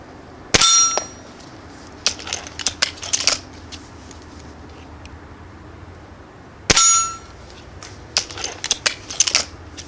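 Gamo Swarm Fusion 10 Gen 2 air rifle firing Sig Sauer pellets at a target: two loud, sharp metallic cracks several seconds apart, each followed by a scatter of smaller clicks and rattles.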